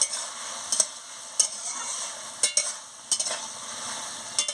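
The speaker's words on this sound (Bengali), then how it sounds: "দিয়ে ভালো করে নাড়িয়ে নিচ্ছি।" Cucumber and potato curry with cumin powder and garam masala sizzles in a pan under a low, steady fry, while a spatula gives close, clear scrapes and clinks in a loose rhythm. No one speaks.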